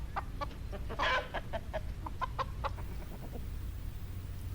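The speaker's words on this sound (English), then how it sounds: "Was that a rooster?" A rooster calls out in a quiet suburban park, a short burst of bright clucking and crowing notes standing out against light background hum, with scattered bird chirps around it.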